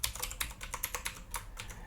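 Quick, steady keystrokes on a computer keyboard as a password is typed in, close and fairly quiet, with roughly a dozen taps and no voices.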